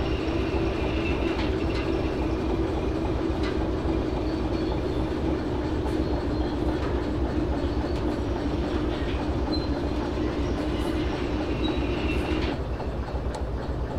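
A freight train in the Derail Valley simulator game, rolling with a loud continuous rumble, steady rail clatter and faint intermittent wheel squeal throughout.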